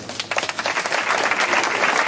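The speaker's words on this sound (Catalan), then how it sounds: "Un aplaudiment." A crowd applauds at a festival ceremony honoring the festival queen during the Festes del Crist 2012 in Alcora, a dense, loud and continuous clapping that stays even throughout.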